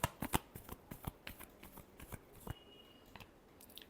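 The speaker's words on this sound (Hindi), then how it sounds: "last shuffle" Tarot cards being shuffled by hand, a quick run of crisp riffling slaps and flicks that slows and fades toward the end, close and quiet with no talk.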